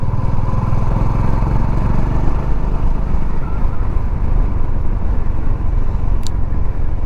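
Honda Highness 350 motorcycle riding in second and third gear, a steady, loud engine drone with road rumble throughout and no talk.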